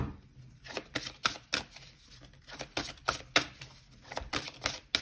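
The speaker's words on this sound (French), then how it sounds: "On va tirer les deux dernières cartes" Oracle cards are shuffled and drawn by hand, producing a quick run of close, crisp flicks and papery snaps in an irregular rhythm, with no talking.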